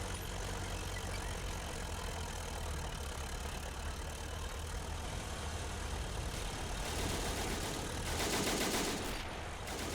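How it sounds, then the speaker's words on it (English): A German First World War tank in the game Men of War Assault Squad rumbles steadily as its engine drives it forward, a constant low drone under continuous battlefield noise with scattered gunfire, getting slightly louder near the end. "The German tank coming around slightly."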